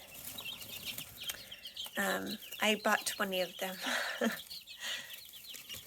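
Hens cluck and chirp nearby, a scattered series of soft calls, while a person speaks over them.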